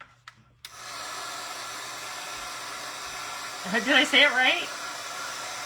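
A hair dryer blows steadily at close range to dry paint on a book song page during a craft project, starting abruptly after a click and running as a constant whoosh while a person speaks briefly over it.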